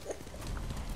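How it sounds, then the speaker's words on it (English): Horse hooves clip-clopping in the Ghost of Tsushima video game, a quick run of soft thuds under a low rumble, faint and close. "Come here, horsey."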